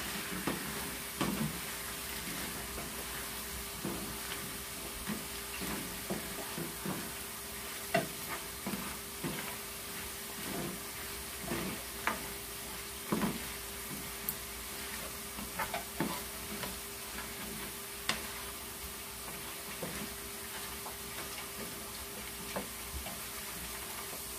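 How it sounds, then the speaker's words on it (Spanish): Chicken legs sautéed in a frying pan with oyster sauce are stirred, giving a steady sizzle broken by repeated scraping and clattering strokes of the utensil, close and continuous, with no talking. "Vamos a revolver bien."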